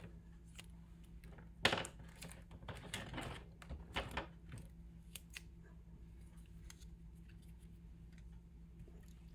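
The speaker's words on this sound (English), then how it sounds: "Let me get my scissors." Scissors snip through paper up close, a few crisp cuts in quick clusters followed by quieter rustling and small handling sounds.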